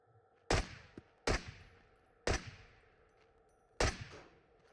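Four sharp gunshots from the video game Into The Radius, each a loud crack with a short decaying tail, fired at irregular intervals over a faint background hum.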